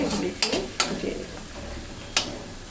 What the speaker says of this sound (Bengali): এখন 1 মিনিটের মতন একটু মশলাটা ভেজে নিব, গরম মশলাটা